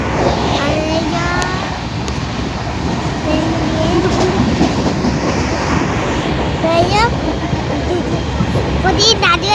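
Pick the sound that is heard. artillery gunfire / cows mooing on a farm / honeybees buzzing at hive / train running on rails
train running on rails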